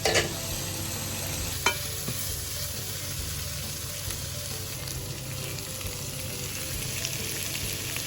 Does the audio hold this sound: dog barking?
no